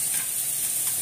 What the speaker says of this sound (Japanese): 軽く塩コショウして軽く炒めて